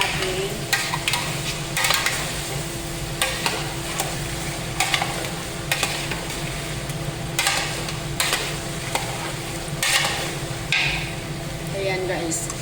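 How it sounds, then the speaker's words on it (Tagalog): Chicken kabsa is stirred in a pot over a constant low sizzle and hum, with repeated scraping knocks of a spoon against the pot and someone talking intermittently nearby. "Haluin natin."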